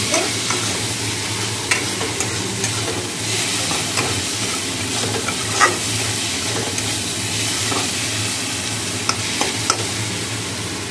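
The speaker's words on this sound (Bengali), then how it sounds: "এবার জল দিয়ে দেবো।" Water hitting spice paste frying in a pan for a fish roe curry, giving a steady close sizzle with stirring scrapes and occasional sharp pops, no talking.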